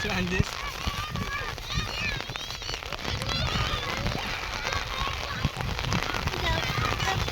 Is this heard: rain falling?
yes